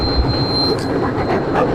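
A train runs on rails between Natore and the Hili border in Bangladesh, giving a loud, steady close rumble with a thin high wheel squeal through the first part.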